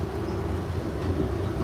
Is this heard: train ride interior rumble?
yes